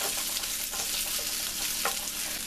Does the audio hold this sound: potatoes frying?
yes